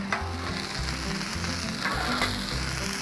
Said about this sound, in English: Let's give these fries another stir.